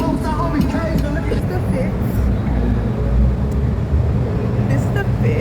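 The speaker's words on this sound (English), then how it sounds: "those cars are so loud above us on the freeway" Cars on a freeway overhead make a heavy, continuous low rumble of traffic that fills the space below, loud and steady, with people talking underneath.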